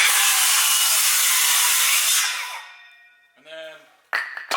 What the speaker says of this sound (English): Jeff's going to make the cut cordless with the Metabo HPT circ saw